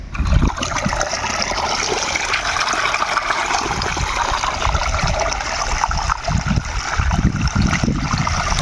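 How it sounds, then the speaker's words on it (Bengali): Cut pangas fish pieces being washed in water in a bowl, a steady splashing, trickling wash of water that runs continuously and close up with no talk. "তো চলো এখন মাছটা ধুয়ে আনে নিয়ে চলে আসি"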